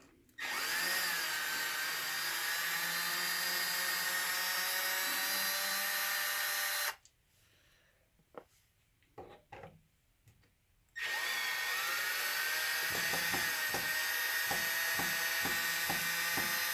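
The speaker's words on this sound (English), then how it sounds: "So you just loosen out your 4 factory screws in the back." Power drill or driver loosening factory screws on the skid plates of a Losi DBXL-E RC truck, a loud steady whine for about six seconds, a pause with faint clicks, then a second long whine with ratcheting skips, close up.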